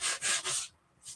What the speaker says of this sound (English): I'm going to come in and sand the edges a bit